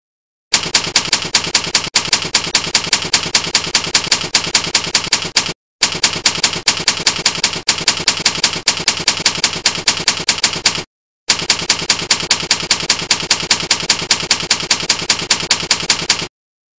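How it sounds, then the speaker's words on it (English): Rapid, steady typewriter keystrokes clatter in three long bursts separated by brief pauses, as one sentence is typed over and over onto paper, loud and close with no voices. "His punishment is to type the following sentence until he runs out of paper"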